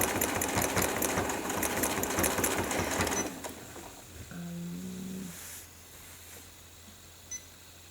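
A sewing machine fitted with a fresh titanium needle stitches steadily and rapidly up close at a bleachwork workshop, then stops, leaving quieter hums and faint tones.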